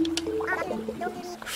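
A duck villager in the Animal Crossing video game gives a short run of nasal, stuttering quacks, loud and close, with faint background game sounds.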